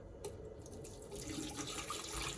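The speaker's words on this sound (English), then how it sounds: "I'll bring the kettle out to here, and we'll flush it out." Hot water from a kettle pours steadily into a clogged sink in a flood-damaged home, a continuous close splashing gush that gets fuller and louder partway through, with no talking.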